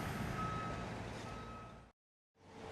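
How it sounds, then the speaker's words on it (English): Street traffic and construction racket in a small Wisconsin town, a steady roar of passing trucks and engines with a beeping tone, then a sudden brief drop to silence before the din resumes. "The noise is very horrible today with the traffic and construction."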